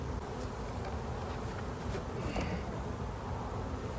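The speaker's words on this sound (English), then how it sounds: "Just too many bees in here." Honeybees from a swarm catch buzz steadily around a swarm trap, a dense, even drone with no pauses and no talking.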